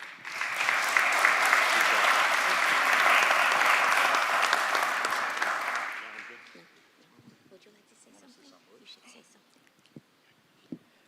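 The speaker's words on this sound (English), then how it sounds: "join me in applauding" Audience applause fills a city commission meeting in Miami, a loud, dense burst of clapping lasting about six seconds before fading out to quiet room noise with a few scattered claps and shuffles.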